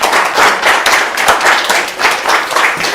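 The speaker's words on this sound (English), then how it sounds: "give yourself a round of applause" A crowd at a hotel food and drink competition in Barbados claps and applauds steadily throughout, dense and loud, with no one speaking.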